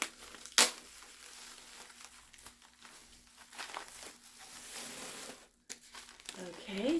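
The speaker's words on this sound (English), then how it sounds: "it's wrapped up in paper" Paper wrapping crinkles and rustles as a candle is unboxed, with intermittent soft crackling handled up close, and a person talking between the bursts.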